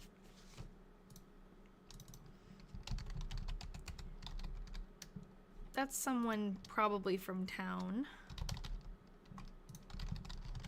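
Rapid, steady clicking of keys on a computer keyboard runs throughout at close range, with a person speaking over the middle of the typing.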